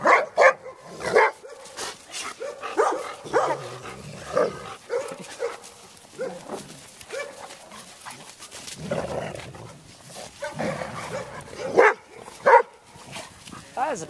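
A dog barks and whimpers in bursts, with people talking over it throughout; a couple of louder yips stand out near the end.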